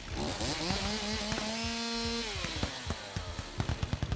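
A buzzing, revving chainsaw gun weapon sound effect whines up and down in pitch, followed by a rapid burst of sharp mechanical clatter, loud and close.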